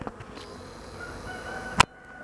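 Honeybees buzz at a hive entrance, a faint, steady hum, with a single sharp click near the end.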